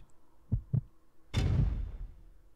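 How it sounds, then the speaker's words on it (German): Heartbeat effect from Resident Evil Code: Veronica X: two close, low thumps followed by a longer, louder booming pulse that swells and slowly fades, heard alone with no talk. "Oh, Herzklopfen wieder."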